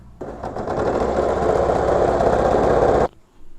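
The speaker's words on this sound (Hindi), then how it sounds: "बस एंड करूँगी सिलाई को।" An electric sewing machine stitching a six-panel petticoat runs in one steady, loud whirring burst of about three seconds, then stops abruptly.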